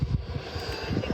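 E-flite Viper 70mm RC jet plane in flight, its ducted-fan whine steady and moderately loud through a short burst with a low rumble underneath.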